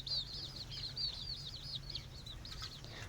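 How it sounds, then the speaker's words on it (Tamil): Chickens kept in an enclosure give repeated high clucks and chirps, fairly faint, with a steady low hum underneath. "நம்ம கோழிலாம் பாருங்கள் உள்ளே இருக்குது."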